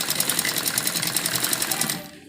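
A sewing machine stitches a seam on an umbrella frock, its rapid needle rattle loud and near before stopping abruptly at the end.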